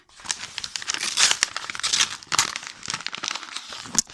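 A manga package's plastic wrapper crinkles and tears in quick, uneven bursts, close to the microphone and fairly quiet, with no voices.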